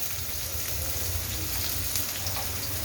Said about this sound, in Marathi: जिरे मोरी लाल झालं तर कांदा टाकायचा